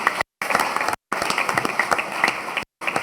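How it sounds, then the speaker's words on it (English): Dense, loud audience clapping at a housing authority annual meeting honoring award recipients, continuous and close, broken by a few brief sudden dropouts into silence. "So a final round of applause for all of our honorees this year."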